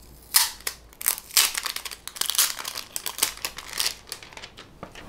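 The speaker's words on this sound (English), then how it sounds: "You just take off this plastic. That's just for packaging." Plastic packaging film is peeled and crinkled off a GoPro Fusion grip pole, a series of close, sharp crackling and rustling bursts in quick irregular succession, with no voices.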